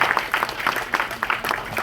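Audience applause at a Tamil movie audio launch event, a steady patter of many hands clapping, fairly close and loud.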